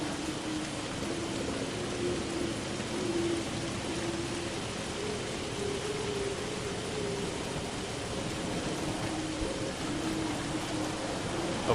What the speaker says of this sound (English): And it is awfully rainy right now.